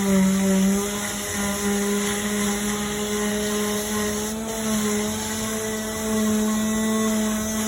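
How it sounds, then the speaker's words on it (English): A power sander drones steadily on a wooden patio chair, a continuous buzzing whine with no pauses, close and fairly loud. "to give it another really good sanding."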